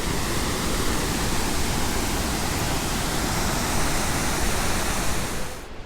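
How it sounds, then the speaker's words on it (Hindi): A mountain waterfall on the Katora Lake trek roars close and loud, a dense, unbroken rush of falling water that stays steady throughout before cutting away at the end. "ये लें जी वाटरफॉल देखे कितनी मज़े की है।"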